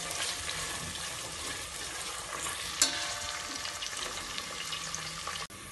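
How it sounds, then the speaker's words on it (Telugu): Onion and green chili fry in a pan for a chicken dish, giving a steady, close sizzle with faint stirring scrapes and one brief clink near the end. "ఉల్లిపాయ పచ్చిమిరపకాయ బాగా వేగిపోయింది చూడండి"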